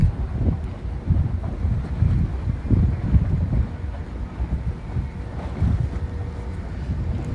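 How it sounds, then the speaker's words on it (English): Ocean waves rolling in steadily with heavy wind buffeting the microphone, producing a continuous low rumbling wash with slow surges, loud and close throughout. "the waves are just going"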